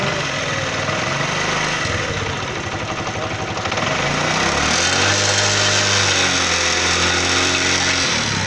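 A motorcycle engine runs steadily with a harsh, rattling piston knock from the cylinder, its pitch rising as it is revved partway through.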